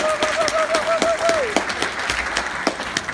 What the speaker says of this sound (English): Applause for Cecily and Cassie as you come up to join me.